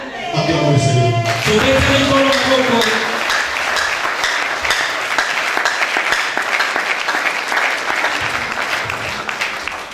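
A church congregation applauds in sustained, dense clapping that fills the room for several seconds, with a voice speaking over the opening.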